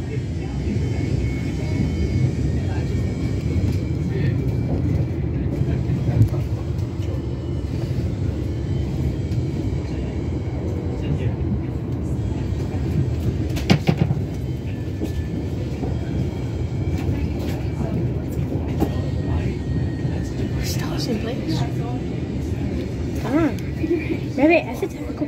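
A ScotRail train rumbles along continuously, with a steady low roar of wheels and carriage noise and occasional clanks and rattles, while voices are heard over it.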